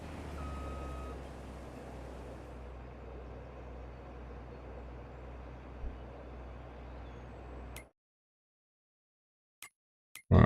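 In the Farming Simulator 22 video game, a farm vehicle's engine hums steadily before cutting out abruptly, followed by a few short, sharp reversing-style beeps at the very end.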